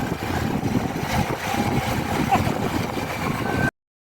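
A motorbike rides fast on an empty road at night, giving a steady, close engine and wind rumble that cuts off abruptly near the end.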